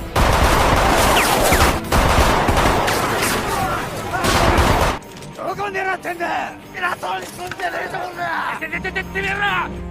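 Musket gunfire from Kiyomasa's soldiers in a film battle rattles in loud, dense volleys for several seconds, then gives way to sparse scattered shots and clanking mixed with film voices and effects.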